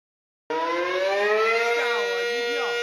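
A civil defense air raid siren wails across Taiwan streets, starting abruptly after half a second of silence and holding a loud, steady rising tone with wavering pitch throughout.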